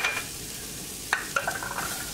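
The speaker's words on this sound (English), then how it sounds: "I'm gonna add my veggies in, which is some red onions and green peppers." Red onions and green peppers sautéing in half a tablespoon of butter, a steady sizzle broken by a few sharp spatula scrapes and stirs against the pan, close and clear with no voices.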